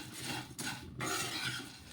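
Puffed rice being stirred and tossed in a pan on a gas stove, a continuous dry rustling scrape with a brief pause partway through, close and moderately loud with no talking.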